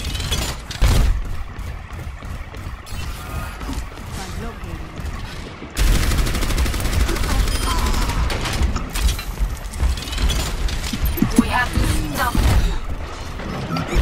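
Rapid weapon fire from the hero Orisa in the shooter game Overwatch crackles in dense, sustained bursts, growing louder and heavier about halfway through, while a player talks over the shooting.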